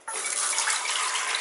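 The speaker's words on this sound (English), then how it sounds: "Just listen to that delicious water." Water gushes steadily from a tap into a cooking pan, a close continuous splashing rush that starts abruptly and runs without pause.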